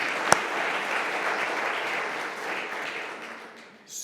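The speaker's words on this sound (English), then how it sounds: "So maybe a round of applause for all of the..." Audience applause at a meeting with a Shark Tank pitch segment, a steady broad wash of clapping running throughout, with one sharp louder clap near the start, easing off slightly toward the end.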